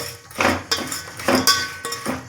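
Spoon stirring jaggery with half a cup of water in a metal pan, several loose scraping and clinking strokes against the pan in an uneven rhythm, close and moderately loud.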